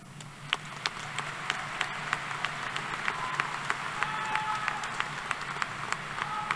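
Applause from a university commencement crowd in a large venue, a steady wash of many hands with scattered sharper claps standing out, moderately distant and continuous throughout.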